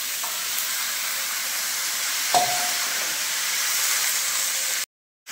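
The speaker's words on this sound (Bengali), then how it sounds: "দিয়ে দিলাম আমি কেটে ধুয়ে রাখা নুন হলুদ মাখানো চিংড়ি মাছগুলো দিয়ে দিলাম" Salt-and-turmeric coated prawns and chopped bottle gourd sizzle and hiss steadily in a hot frying pan, with one brief clatter midway and the sizzle cutting out near the end.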